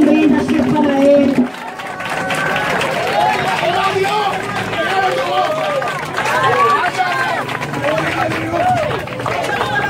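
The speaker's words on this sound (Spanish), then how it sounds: "Dele otro aplauso a Dios" A church congregation claps and cheers as a crowd, with dense applause and many voices mixed together after a brief stretch of music at the start.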